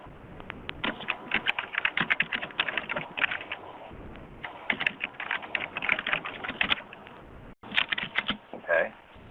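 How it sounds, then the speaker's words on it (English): Fingers type on a computer keyboard in quick bursts of close, clicky keystrokes, pausing briefly between runs while filling in a records form. "we'll type in additional information"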